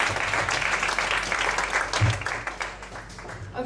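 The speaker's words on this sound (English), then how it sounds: "Give me a round of applause." Audience giving a round of applause at a storytelling night in a bar venue, a steady crowd of hands clapping in a continuous dense patter, close and moderately loud.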